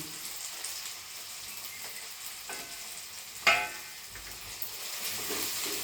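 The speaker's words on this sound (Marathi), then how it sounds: "त्याच्यामध्ये घालणार आहे टॅमॅटो आणि ही सगळी कोथिंबीर" Tomato and coriander sautéing in a pan for matki usal, with a steady soft sizzle and occasional stirring scrapes, including one sharper clatter midway, close and alone without talk.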